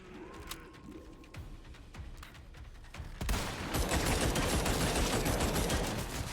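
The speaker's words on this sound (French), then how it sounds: "Il tire sur le méchant." Gunfire in the video game Resident Evil 4 Separate Ways: scattered sharp shots at first, then a dense, loud burst of rapid firing that carries on to the end.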